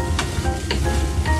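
Fried rice made with day-old rice sizzles steadily in a pan over a home stove, with short scraping stir strokes cutting through the continuous frying hiss.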